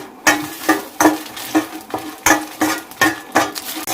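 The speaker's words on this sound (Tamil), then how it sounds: "இறால் வறுத்த பாத்திரத்துலேயே நம்ம வரமிளகா வறுத்தரலாம்" Dried red chillies roasting in the same pan used earlier for frying prawns, stirred in a steady rhythm of sharp scraping strokes against metal, close and loud, about two strokes per second, no talk.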